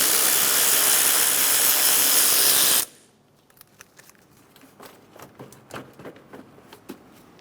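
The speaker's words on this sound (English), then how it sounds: "Using a 10mm socket, remove the bolt for the bracket." Ratchet with a 10mm socket turning a bracket bolt on a 2003-2007 Honda Accord, a series of quick, light metallic clicks in uneven bursts after a loud hiss cuts off.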